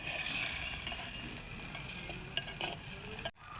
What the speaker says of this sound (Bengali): আলুটা এখন হালকা হালকা ভাজা হচ্ছে।